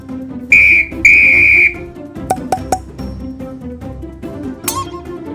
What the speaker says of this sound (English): Blue toy whistle.